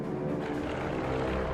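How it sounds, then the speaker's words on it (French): Aircraft engines droning steadily overhead above a WWII Allied convoy, radar-equipped anti-submarine patrol planes; a continuous loud hum with no breaks. "Des avions équipés de radars et armés de grenades sous-marines forcent les U-booteux à plonger"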